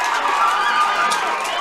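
A crowd at a St Fechins vs Balyna Leinster intermediate camogie club final cheers in a loud, continuous roar with high shouts mixed in, and a commentator's voice can be heard in it.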